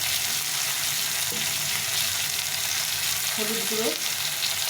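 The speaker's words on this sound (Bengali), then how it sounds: "টমেটোটা একটু ভাজা ভাজা হয়ে গেছে" Chopped tomato fries in hot oil with salt and turmeric powder, giving a steady, close sizzle throughout, with brief stirring and someone speaking softly over it.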